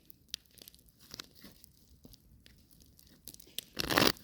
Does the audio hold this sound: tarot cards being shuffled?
yes